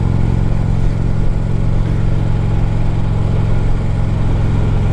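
A 2010 Harley-Davidson Ultra Limited with a 103 cubic inch engine, heard while riding, gives a loud, steady, throbbing low rumble that holds a constant pace with no voices over it.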